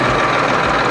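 A tractor engine idles just after being started, a loud, close, steady diesel rumble with even low knocking throughout.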